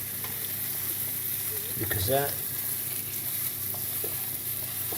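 Norcia sausage frying in sunflower oil in a pan gives a steady sizzle and crackle, close and continuous, with a brief stirring or scraping in the middle and a few words spoken.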